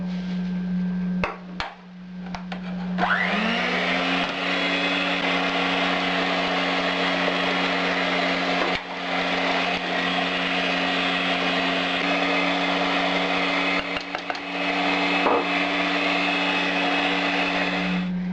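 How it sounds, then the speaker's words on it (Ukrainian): An electric mixer whirs steadily, beating eggs as sugar is gradually added, a continuous close motor drone with a brief stop and restart near the beginning and small dips along the way, no talking. "збивати яйця. Потихеньку буду всипати цукор."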